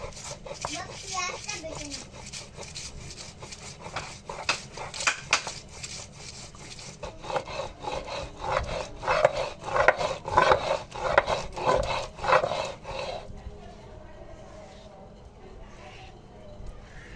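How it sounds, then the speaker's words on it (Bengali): Onion ground into paste on a grinding stone, a steady rasping rub that grows louder and more rhythmic midway, with children's voices and talk nearby. "এবারে পেঁয়াজটা বেটে নেব।"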